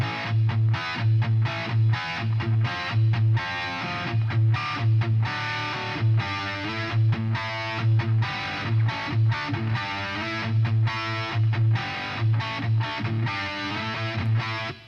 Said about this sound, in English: a basic crunch rhythm that has nothing on it except a little warm hall reverb